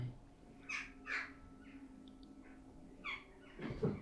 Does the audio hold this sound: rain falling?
no